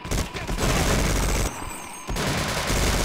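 LMG machine gun fire in the video game Half-Life: Opposing Force, played in Sven Co-op, roars in sustained loud bursts with a short break midway before resuming.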